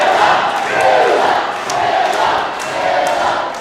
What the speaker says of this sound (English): Crowd thoroughly behind Zilla Fatu.